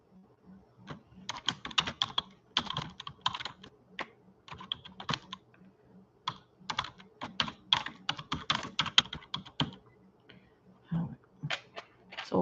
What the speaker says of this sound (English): So we'll let that finish typing before I hit